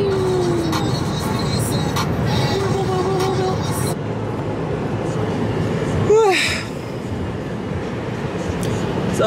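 Steady road rumble and hum inside a car on a long drive, continuous and fairly loud, with a rising whine near the middle and voices talking over it.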